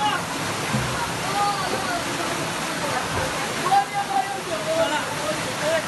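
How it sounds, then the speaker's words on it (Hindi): Flood water after heavy rain in a house in Delhi's Nehru Nagar, a steady rushing, sloshing pour that fills the whole clip, with faint voices in the background. "यहाँ से पानी आता है, पिछले 2 घंटे से पानी आ रहा है।"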